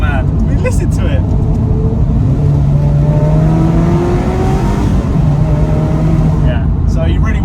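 A Ferrari 355 F1 GTS engine revving while driving, a loud continuous high-pitched wail with rising sweeps under heavy wind and road noise, with voices speaking over it.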